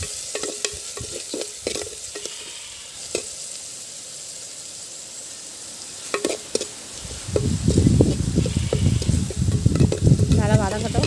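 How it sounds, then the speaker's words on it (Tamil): Tomatoes frying in a pan for goat intestine gravy, first a steady low sizzle with light clinks of a spoon, then louder, busier frying and scraping as the stirring picks up toward the end. "நல்லா வதங்கட்டும் தக்காளி."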